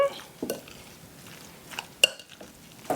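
A spoon works through potato salad dressed with mayonnaise in a bowl, a few soft scraping and clinking strokes against the dish at irregular intervals, close and fairly quiet.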